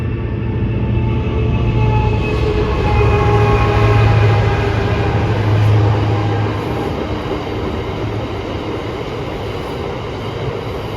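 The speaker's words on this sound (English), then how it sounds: "We also spotted Class 59, 59002 on an aggregates train." A loud, heavy Class 59 diesel locomotive drones steadily with a deep throbbing hum as a long aggregates train rolls past close by.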